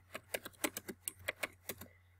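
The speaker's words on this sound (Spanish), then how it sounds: "aquí yo puedo escribir, le doy enter en mi teclado" A run of quick, sharp keystrokes on a computer keyboard, about a dozen clicks in an uneven rhythm, close and clear with no talking.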